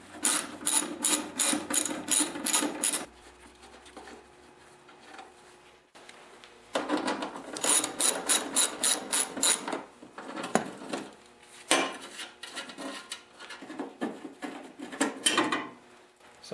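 Bolts on the back cover of an Ariens snowblower are loosened and removed with a tool, heard as close, loud runs of rapid ratcheting clicks, separated by brief pauses and a few scattered metallic knocks.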